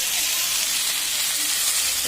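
Eggplant and eggs hit hot oil in a pan, giving a steady, loud broadband sizzle and hiss that holds without a break for the whole stretch, with no voice on top.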